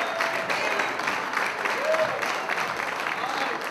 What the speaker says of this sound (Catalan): Un aplaudiment per al Pere.